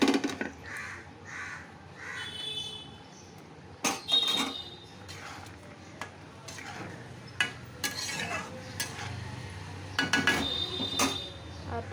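Fried cashews, raisins and coconut go into simmering chholar dal in a pan, with scattered metal clinks, stirring scrapes and a soft sizzle, while crows caw in the background.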